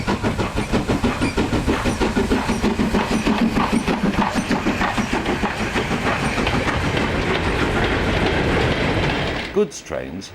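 A preserved British steam goods train on a standard gauge line rolls past loudly, its wagons beating out a steady, rapid clickety-clack that fades slightly before cutting off near the end.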